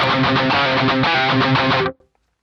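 A distorted electric guitar plays a riff loudly and continuously for about two seconds, with chugging low notes and ringing upper tones, then cuts off abruptly into near silence.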